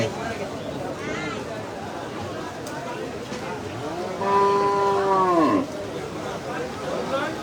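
A cow at a busy cattle market gives one long, loud moo partway through, rising above constant crowd babble and nearby voices.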